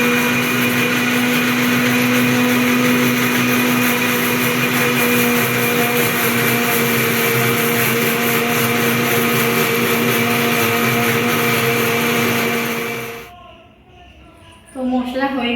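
A 750 watt mixer grinder whirs loudly and steadily while grinding spice paste, a sustained high motor whine that cuts off near the end, followed by faint talk.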